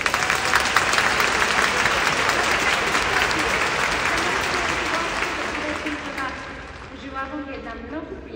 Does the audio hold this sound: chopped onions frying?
no